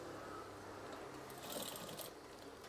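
A sewing machine stitches the hem of a curtain tie string, a quiet continuous mechanical whir with a slight rise in the middle, no voices over it.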